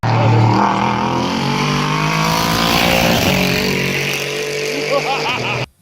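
A sports car engine plays back from an online video, revving loud and continuous with a rising, raspy tone for several seconds before cutting off abruptly.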